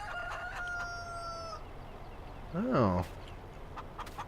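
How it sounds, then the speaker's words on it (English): Chickens in the Farming Simulator 19 video game: a rooster gives one short crow at a moderate distance over a quiet barnyard background, and a voice makes a brief interjection. "So the actual chickens that we bought are in here."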